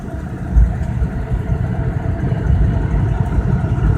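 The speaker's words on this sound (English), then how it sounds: "Engine purrs along beautifully." A classic Rover P5B car engine idling with a smooth, even low rumble and one brief soft thump near the start, alone without voices.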